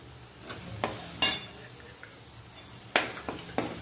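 Ground sesame seeds cook in a pan with ginger, garlic and chilli paste over a low flame for a Mehsana-style onion dish. A faint sizzle runs throughout, broken by scattered sharp scrapes and clinks of a spoon stirring against the pan.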